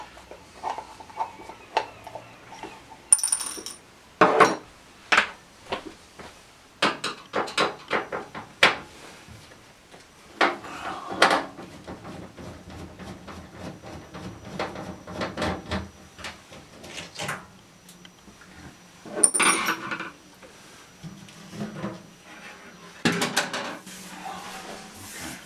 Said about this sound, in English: I always put all my bits in a jar or something so I don't lose anything